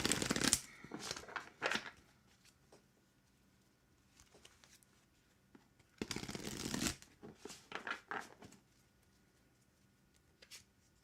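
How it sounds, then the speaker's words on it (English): Tarot cards being riffled and shuffled at close range in two bursts of crisp, papery flutter, separated by a quiet pause and followed by softer taps and slides. "so pulling a card for you, Grayson"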